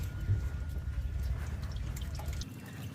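Engine oil splashes from the drain of a Toyota Hiace Commuter into a pan during an oil and filter change, a close, continuous liquid pour with dripping, steady for about two and a half seconds before it cuts off.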